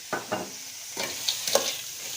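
Peanuts dropped into oil in a pan give a few soft sizzling bursts and scraping stirs, close and fairly quiet, irregular over about two seconds.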